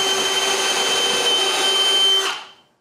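A power drill boring a pilot hole into wood in a woodworking shop runs loud and steady with a high whine for over two seconds, then winds down and stops.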